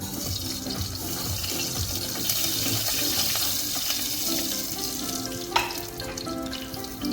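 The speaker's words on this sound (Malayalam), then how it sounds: "എണ്ണ നന്നായി ചൂടായി കഴിയുമ്പോൾ നമുക്കൊരു സ്പൂൺ കടുകിട്ട് പൊട്ടിച്ചെടുക്കാം" Constant sizzling crackle of mustard seeds spluttering in hot oil, with scattered small pops, steady throughout, with one sharper snap near the end.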